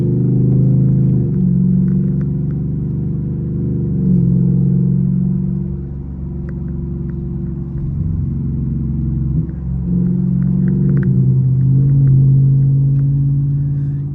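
A car pulls hard in second gear, its engine giving a steady, loud, close drone that swells and dips over several seconds while the vehicle speeds up; no voices are heard.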